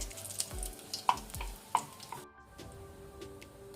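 Dry red chilli and cumin fry in hot oil on a low flame, giving a soft steady sizzle broken by a few sharp stirring clinks before the sound settles quieter.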